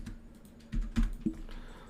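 Quick bursts of typing on a computer keyboard while writing CodeIgniter code, a cluster of sharp close keystrokes midway, loud against a quiet room with no speech.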